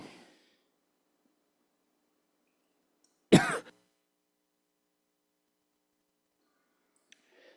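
A single short burst of throat clearing and coughing from one person, close and alone in an otherwise quiet room, lasting about half a second.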